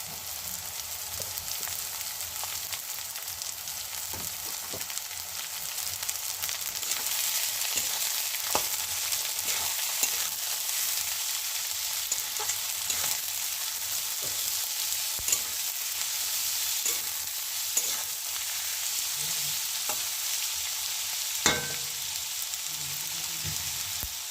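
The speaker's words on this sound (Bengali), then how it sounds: "বাঁধাকপি দিয়ে আমি নাড়ানাড়ি করছি।" Chopped cabbage and onions stir-fried in a pan, with a constant close sizzle of hot oil broken by repeated small clicks and scrapes of the spatula.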